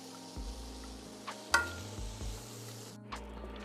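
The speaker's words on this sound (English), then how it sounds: "we let the onions saute down" Onions sauté in a pan, giving a faint, steady sizzle with a few soft stirring scrapes and light clinks of utensil on metal. No one speaks.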